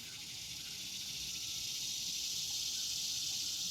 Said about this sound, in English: Can definitely hear the sounds of summer. I don't know what makes all those noises. Some of it's likely to be crickets.